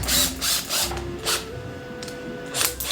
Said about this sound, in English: You're going to have to hold this in place and I'll attempt to drill it.